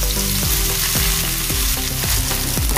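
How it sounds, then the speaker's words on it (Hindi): Chopped onions fry in a pan with cumin, making a loud continuous close sizzle broken by regular rhythmic stirring scrapes of a spoon, with no voices. "प्याज डालेंगे।"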